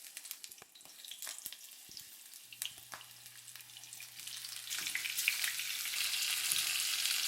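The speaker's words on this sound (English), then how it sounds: "I think you fry this shrimp, you need a little bit more oil" Shrimp fry in oil in a pan, a close crackling sizzle with scattered pops and clicks that swells louder and denser toward the end, no voices.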